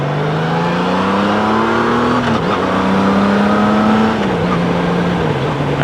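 A Honda Goldwing motorcycle accelerating short of full throttle, its engine note rising steadily, dipping briefly at a gear change, then climbing again and easing off, loud and close throughout with no speech.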